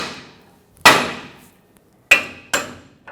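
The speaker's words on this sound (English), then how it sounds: "use a hammer, tap the side of the knuckle right here where the stud goes through" A hammer taps the side of a steering knuckle to break an outer tie rod stud free on a 2000-2005 Ford Excursion: three sharp, close metallic strikes, one alone, then two in quick succession after a pause.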